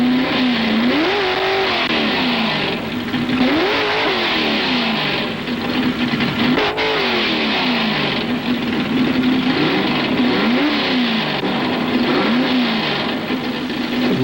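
A drag racing car engine, from a 1970 Ford drag racing team, revs hard and accelerates in repeated rising and falling surges, loud and continuous throughout with no talk.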